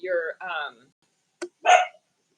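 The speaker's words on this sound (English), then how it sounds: "they're barking at what's on the stove" Two short bursts of barking from a dog close by, following a stretch of harmonic yapping sounds, with quiet gaps in between.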